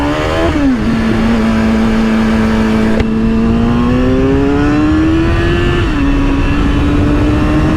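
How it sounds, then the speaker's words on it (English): A motorcycle engine drones loudly and continuously on a road ride to a track day, its pitch sagging and climbing through gear changes, with wind rushing throughout. "Bike is sounding as good as ever"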